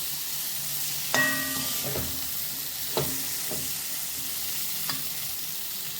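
Drumstick masala fries gently on a low flame in a pan, giving a soft continuous sizzle, with a few distinct spoon scrapes and clinks as it is stirred, close-up and with no talking.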